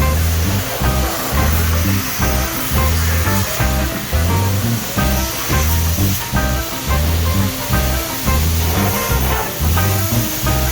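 A pressure washer sprays water in a steady loud hiss, with a rhythmic pulsing low churn underneath, continuous and close throughout.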